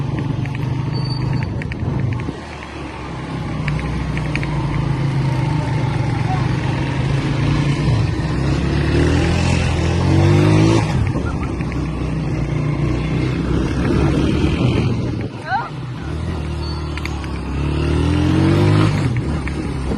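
A car drives along a road with a steady low engine rumble and road noise throughout, swelling slightly at moments, while people talk inside the vehicle.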